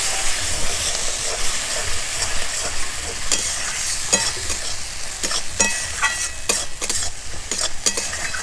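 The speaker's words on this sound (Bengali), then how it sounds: "ভালো করে নেড়ে নেব।" Turmeric, salt and spices for a silver carp fish curry sizzle steadily in a pan, with sharp spoon scrapes and clicks cutting through the close, continuous frying hiss; no talking.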